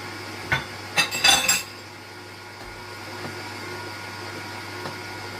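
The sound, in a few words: mixing banana cake batter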